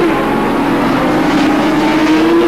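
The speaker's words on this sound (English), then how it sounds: "Mal Campbell now guns up 160 horsepower on a bike that weighs only 150 kilograms" A 160-horsepower racing motorcycle weighing 150 kilograms roars at the 1987 Swann Series race at Calder Park, a loud continuous engine drone that rises slightly in pitch as it accelerates.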